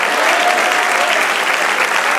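A church congregation claps for the Lord during a Spanish-language worship service, producing loud, sustained, even applause from a large crowd that fills the room from start to finish.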